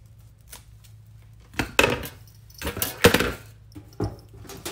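Scissors cut through quilt form material for a wreath, giving a few sharp, close crunching snips in irregular bursts over a quiet background.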